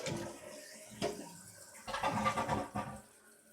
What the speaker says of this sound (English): flush it through